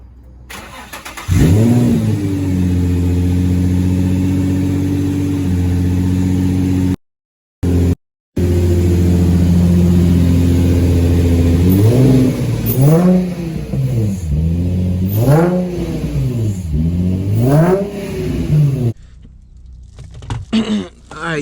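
A Nissan G35 sedan engine cold-starts with a burst, settles into a loud high idle, then revs up and down in repeated sharp swells through a throaty aftermarket exhaust with test pipes.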